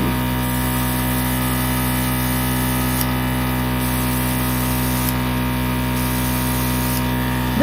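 An airbrush makeup compressor runs with a steady close hum and motor drone while air sprays in a soft continuous hiss that cuts in and out in short bursts, with no talking.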